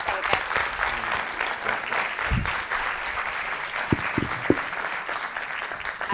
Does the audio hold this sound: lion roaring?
no